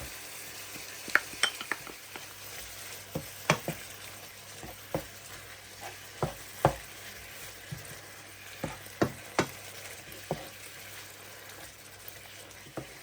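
Small squid sauté in a pan with spices, tomato paste, harissa, parsley and coriander: a steady sizzle runs underneath while a utensil stirs and scrapes, giving sharp scattered clinks at irregular intervals, close and with no talking.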